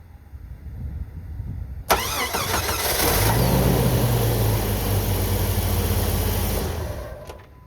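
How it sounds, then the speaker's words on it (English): A car engine cranks and then fires up during a 12V battery cranking test: a sharp click, a couple of seconds of strained whirring, then a steady idle that runs several seconds before cutting off. "Start the engine."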